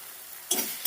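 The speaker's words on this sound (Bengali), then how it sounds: "গ্যাসটাকে মিডিয়ামে রেখে ভালো করে কষিয়ে নেব। তেল ছাড়া পর্যন্ত কষাতে হবে।" Spice masala for a Bengali fish curry sizzling in oil over a medium gas flame, a quiet hiss that jumps into a louder, brighter fry with stirring about halfway through, then one more brief surge.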